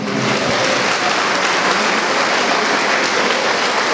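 A church congregation applauds together in sustained, dense clapping that holds steady and loud throughout, with no talk over it.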